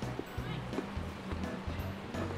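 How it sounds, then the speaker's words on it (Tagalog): Strong wind buffets the microphone outdoors at the Tesselaar Tulip Festival, a steady low rumble with gusty surges throughout, while people talk faintly in the background. "Laban mo hangin talaga eh."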